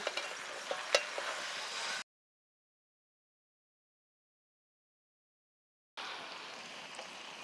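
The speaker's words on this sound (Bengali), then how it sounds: "এবার মাংসটা অল্প অল্প জাল দিয়ে পুড়িয়ে নেব" Tandoori chicken pieces sizzle and roast softly in a pan over a low flame, a faint steady crackle that cuts out to dead silence midway before resuming.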